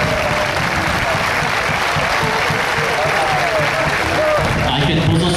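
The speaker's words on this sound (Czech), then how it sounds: "potlesk pre organizátorov z Nitry" Outdoor crowd applause for event organizers from Nitra at a Spartak Trnava ultras gathering, steady dense clapping filling the whole stretch with crowd murmur and some talking mixed underneath.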